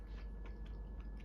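Chewing of a vegan, gluten-free dish with mushrooms, soft, close, steady moist bites and mastication that continue without speech.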